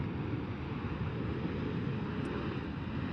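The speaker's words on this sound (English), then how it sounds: "That's the jet reverse you're hearing." Air Force One, a Boeing jet, roars with reverse thrust just after nose touchdown on landing, a loud continuous broadband rush with wind buffeting, steady throughout with no talking.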